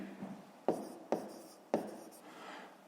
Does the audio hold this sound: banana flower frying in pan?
no